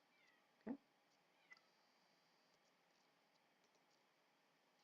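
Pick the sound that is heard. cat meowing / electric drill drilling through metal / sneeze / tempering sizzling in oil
cat meowing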